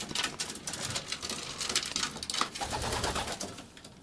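Pigeons guarding their nests coo softly and close by, with low murmuring calls, wing flutters and light pattering rustles around them.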